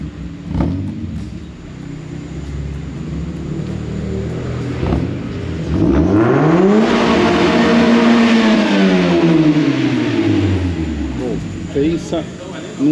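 A manual-transmission car accelerates hard nearby, engine revving up in quick, rising sweeps with rapid gear changes, loud and close, while people talk over it.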